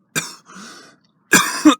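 A person with chest pain who cannot take a deep breath gives weak, short coughs: two breathy bursts, a pause, then a harsher cough and a final short one, close and alone.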